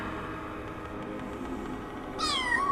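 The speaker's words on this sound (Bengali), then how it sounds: "ক্রমশ বেড়ালের কান্নার শব্দ একেবারে স্পষ্ট হয়ে উঠল" A low hum runs steadily until a single drawn-out kitten meow rises near the end, used as a sound effect in a Bengali ghost story.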